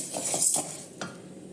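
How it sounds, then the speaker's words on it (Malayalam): Roasted ingredients stirred in a hot pan just after the heat is switched off, for a murukku recipe: a few quick scraping strokes with a faint sizzle, close and alone. "നമ്മൾ ഓഫ് ചെയ്ത് കൊടുത്താലും കുറച്ച് സമയം ഇങ്ങനെ ഇളക്കി കൊടുക്കണം"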